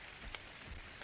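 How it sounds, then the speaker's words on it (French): Steady hiss of rain pouring down in the survival game ARK Survival Evolved on the Valguero map, a continuous broadband wash with faint drop ticks, fairly quiet and without speech. "il pleut bien là"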